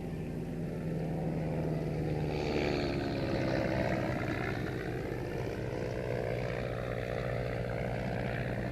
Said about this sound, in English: they both got into that dratted red biplane, which Baron Richthof insists on travelling everywhere in, and flew away